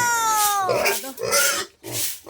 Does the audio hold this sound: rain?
no